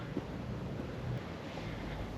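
Wind blowing across a hillside several hundred metres up in Hong Kong, a steady broadband rush with low buffeting on the microphone that holds for the whole stretch, with no one speaking.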